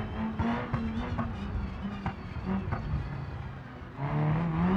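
Rally race car engine in a video game, revving and straining through a corner, with a fluctuating whine, brief gear-shift dips, and a surge of throttle near the end, loud and close with no talking.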